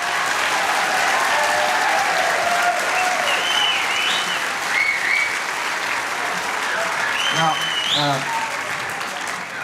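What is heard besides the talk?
concert audience applause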